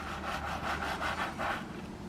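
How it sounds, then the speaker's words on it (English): A foam detailing tool scrubs dirt from between the wheel rims of a Mercedes W212, giving a steady, close rasping rub in repeated back-and-forth strokes with no talking. "you just push it in between the rims carefully to scrub out all the dirt that's in between"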